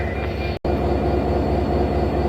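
The Ruposhi Bangla Express train is pulled forward at Benapole railway station, giving a steady, close rumble of rolling railcars with rhythmic wheel clatter, briefly cut by a momentary dropout, with no voices.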